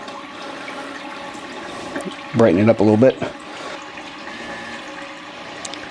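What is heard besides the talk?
toilet flushing with blue water refilling the bowl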